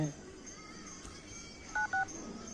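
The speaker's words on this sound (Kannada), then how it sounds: "ಪರ್ಸನಲ್ ನಂಬರ್ ಫೋನ್ ಮಾಡ್ತೀನಿ." Two short keypad beeps sound as a phone number is dialed on a mobile phone, crisp and close over a faint background hum.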